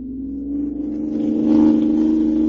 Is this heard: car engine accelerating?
yes